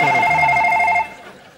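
A telephone rings loudly with a steady electronic trilling tone for about a second, then cuts off and trails away.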